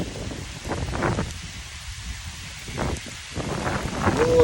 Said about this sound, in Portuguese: por essa maravilhosa chuva